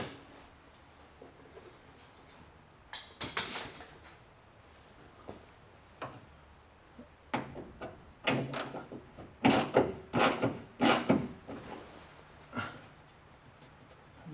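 Sharp metallic clicks and ratcheting bursts from tightening bolts on a Trans Am gas tank, coming in irregular clusters with quiet gaps between them, close and moderately loud.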